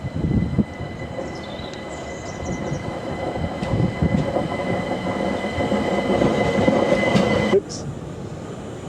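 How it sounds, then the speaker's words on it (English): A London Overground train pulls out of a station in South London, a steady loud rumble of wheels and motor building over several seconds before cutting off sharply, with faint clicks and high tones above. "And the old overground, oh, it's leaving."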